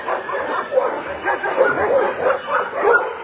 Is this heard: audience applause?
no